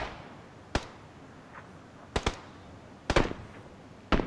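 Gunfire in the PUBG battle royale video game: scattered sharp cracks, some in quick pairs, sound at a distance over a quiet background hiss.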